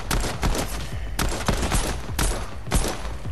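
Pistol shots in the game Fortnite, a rapid burst of about six sharp, loud cracks fired in quick succession, evenly spaced under a bed of game noise.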